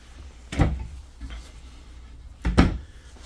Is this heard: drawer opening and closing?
yes